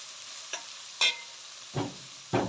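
Onion being sautéed in a pan, with tomatoes added, for a spinach dish; a faint background sizzle is broken by a few sharp stirring scrapes and clatters, close and quiet, with no talking.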